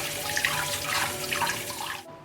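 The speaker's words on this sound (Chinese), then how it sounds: "鸡中翅我们先清洗干净，" Running tap water pours steadily into a sink while chicken wings are washed, a continuous close splashing rush that stops abruptly at the end.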